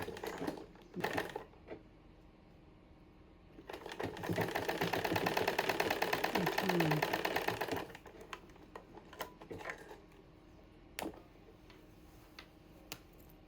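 A sewing machine runs in one steady burst of rapid stitching, about four seconds long, as it sews facing to facing and fabric to fabric on a gown. Quiet clicks and handling noises come before and after it.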